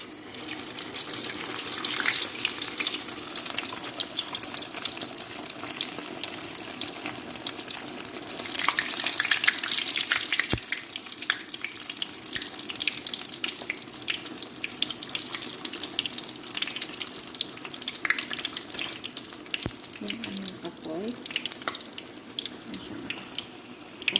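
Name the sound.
eggplant frying in hot oil for tortang talong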